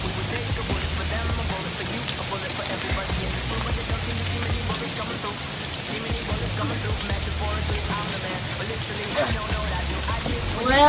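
Light rain falls outdoors as a woman prepares to shampoo her hair in it, a soft continuous patter with a low rumble beneath and faint talk in the background.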